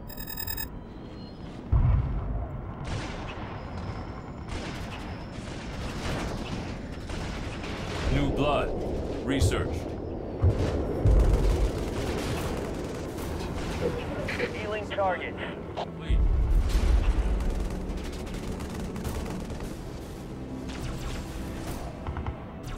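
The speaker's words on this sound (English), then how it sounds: "Cargo 1, we are taking fire." Gunfire and explosions from the real-time strategy game Halo Wars, a dense, continuous battle din of shots and booms with bursts swelling around the middle and later, heard under spoken radio chatter.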